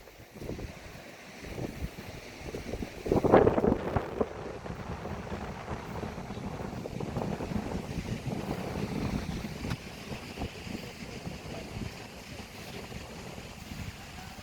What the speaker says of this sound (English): Wind's picking up a little bit here